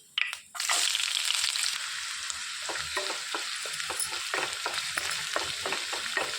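Cumin and chopped onions hit hot oil with a sudden loud burst of sizzling that settles into a steady, close crackle, broken by rhythmic scraping strokes of a spoon stirring.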